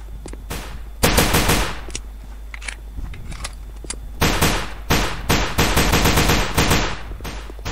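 Automatic weapon fire from the shooting video game Combat Reloaded 2 comes in loud, rapid bursts of sharp shots, with a few brief gaps between strings and near-continuous firing over the last few seconds.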